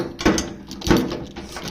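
Side service door on a 60 W OMTech laser cutter pushed closed: two short thuds with a latch click about half a second apart, near and moderately loud.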